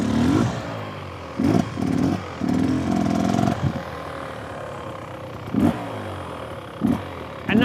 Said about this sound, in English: You'll come in, they're revving,